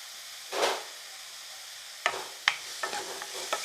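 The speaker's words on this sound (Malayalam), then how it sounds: "എണ്ണ ചൂടായപ്പം 2 സവോള ചെറുതായിട്ട് ചോപ്പ് ചെയ്താണ്, അതങ്ങോട്ട് ഇട്ട് കൊടുക്കും" Chopped onions and salt hit hot oil with a sharp hiss, then after a pause come several short sizzling bursts as the pan is stirred, close and without speech.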